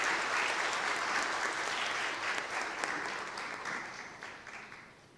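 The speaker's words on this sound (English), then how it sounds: "let's give them a good round of applause, as Dr. Akram would say." An audience applauds after a panel discussion on business success through AI, a dense, steady clapping from a full room that gradually fades toward the end.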